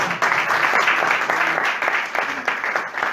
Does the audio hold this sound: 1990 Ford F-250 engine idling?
no